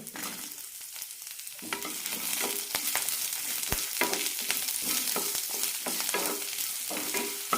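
Onion added to lentils frying in a pan for a ridge gourd chutney, with steady sizzling and repeated stirring scrapes and taps throughout, close and fairly loud, with no talking.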